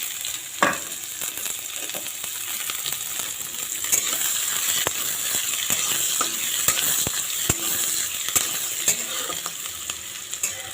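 Onions fry in a hot pan with oil after mustard seeds have popped, a steady close sizzle with frequent scraping stirs and small clicks of the utensil against the pan, with no voices.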